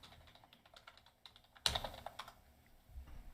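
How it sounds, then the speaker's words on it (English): Rapid typing on a computer keyboard, soft clicks clattering unevenly, broken by one sharp loud clack partway through, then lighter taps trailing off. "Typing."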